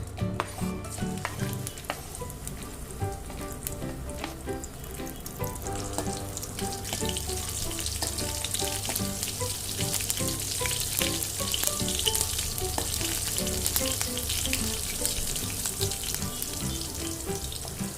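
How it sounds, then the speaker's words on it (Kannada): Cumin, mustard seeds and green chillies fry in hot oil for bread toast, making a loud, continuous crackling sizzle close by that swells slightly midway, with occasional stirring and no talk. "ಜೀರಿಗೆ ಮತ್ತು ಸಾಸಿವೆ ಹಾಕೋತಾ ಇದ್ದೀನಿ. ಹಸಿರು ಮೆಣಸಿನ್ಕಾಯಿ ಹಾಕೊಳ್ಳೋಣ."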